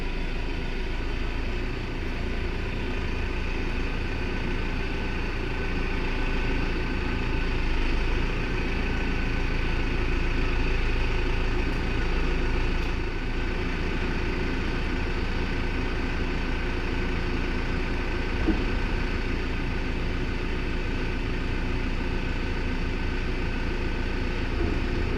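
A New Holland tractor engine idles steadily, a continuous low mechanical rumble at even volume throughout with no talking.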